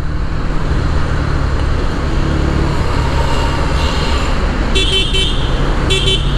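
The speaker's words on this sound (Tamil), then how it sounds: "ஸோ இதுதான் ஹார்ன் வந்து டீசெண்டாக தான் இருக்குது." Short horn blasts from a BS6 Yamaha FZ-S motorcycle, two brief honks near the end over constant loud engine and road noise.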